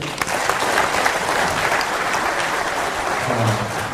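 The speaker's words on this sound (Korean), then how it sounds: "다시 한번 큰 박수로 알아보겠습니다" Sustained audience applause fills a lecture hall at the close of a history talk, steady and dense clapping from many hands throughout, with no voices standing out.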